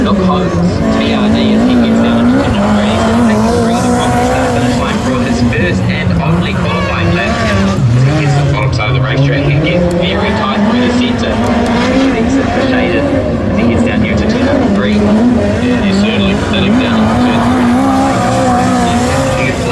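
A midget race car on a qualifying lap at Western Springs Speedway screams loudly and steadily, its engine note dipping and climbing through the turns with tire squeal, under a commentator's voice.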